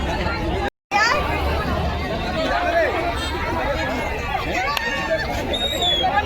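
Dense crowd hubbub outside Bhuvneshwari Talkies cinema in Kawardha for a showing of the Chhattisgarhi film Mangalsutra, many overlapping voices close and constant, with a brief dropout near the start.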